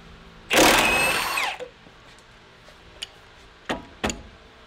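A power impact gun rattles in one loud, whining burst of about a second while loosening lower control arm and suspension bolts on a Nissan 350Z, followed by a few sharp metallic clicks and taps in a quiet garage.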